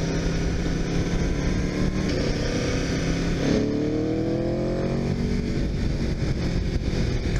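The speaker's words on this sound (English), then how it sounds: "That sounds fantastic for a stock bike." A 2018 Aprilia RSV4 RF motorcycle engine drones steadily while riding, its pitch sweeping up through a gear change midway, under constant wind rush.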